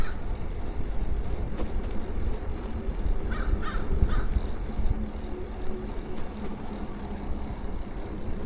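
A crow in a tree gives a few faint caws in the middle, half buried under steady, loud rumbling traffic and engine noise outdoors.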